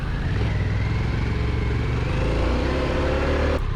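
A big adventure motorcycle runs across a grass track at an off-road rally, its mid-pitched engine droning loud and close at a steady pace, the tone rising slightly before cutting off abruptly near the end.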